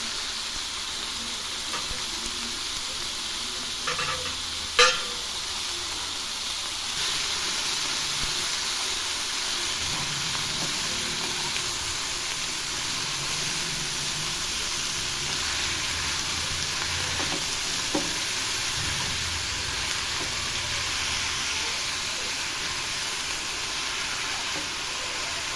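Radish pieces cooking in a pan with turmeric, salt and coriander give a steady, low hiss of frying and steam that runs unbroken throughout, with one brief sharp click near the start and no talk.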